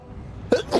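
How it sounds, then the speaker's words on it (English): A person gives a single sharp sneeze up close, a quick intake followed by a burst and a second breathy release, during a live game stream of The Elder Scrolls Online. "I gotta sneeze so bad."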